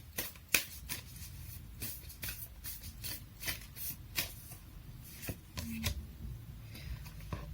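Oracle cards from The Universe Has Your Back deck shuffled by hand, a quiet run of soft riffling and papery slaps in uneven bursts over a low background hum, with no talking.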